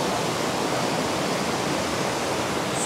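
Flowing water from a stream or waterfall rushes in a steady, dense hiss, loud and unbroken throughout.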